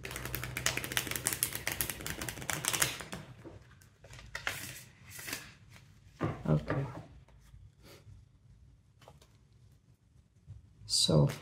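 A deck of cards being shuffled by hand, with bursts of riffling and rapid clicking at close range, stopping and starting with quieter gaps between.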